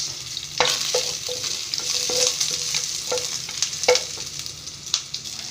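Garlic and onion sautéing in a hot pan, with a steady close sizzle and repeated scrapes and clinks of a spoon stirring through it, and no one speaking.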